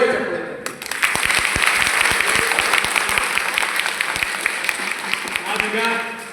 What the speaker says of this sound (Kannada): ಈ ನಾಟಕ ನಿಮ್ಗೆ ಇಷ್ಟ ಆಗಿದ್ರೆ, ಇಷ್ಟ ಆಗಿದ್ದವ್ರು ಮಾತ್ರ ಜೋರು ಚಪ್ಪಾಳೆ